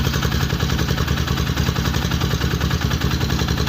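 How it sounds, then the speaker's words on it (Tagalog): A motorcycle engine rigged as a generator to charge a battery runs steadily at idle, a close, dense, rough mechanical drone with a fast even pulse and no talking. "napandar ko yung motor"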